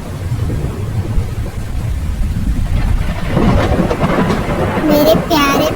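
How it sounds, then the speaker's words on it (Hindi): Heavy rain and thunder in a Hindi animated cartoon: a low thundery rumble and steady downpour, with brighter voice-like tones entering near the end. "घने काले बादल छा जाते हैं और देखते ही देखते मूसलाधार बारिश शुरू हो जाती है"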